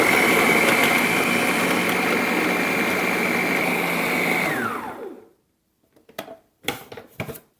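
A food processor blitzing shortcrust pastry ingredients into fine breadcrumbs roars loud and steady for about five seconds, then winds down to silence, followed by a few scattered clunks and knocks of the bowl being handled.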